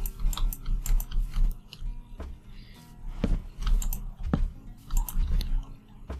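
Minecraft character eating melon, rapid crunchy chewing and munching bites repeating in quick bursts, fairly close and prominent with no talking over it.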